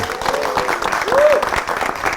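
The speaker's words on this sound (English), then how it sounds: "I want a louder round of applause for each and every one of you." A dense burst of audience applause fills the room at a school teachers' event, loud and close, with a few voices calling out over the clapping.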